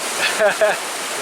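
Creek water streams steadily while people wade along the bed, with a broad rushing wash throughout and two brief voices talking over it.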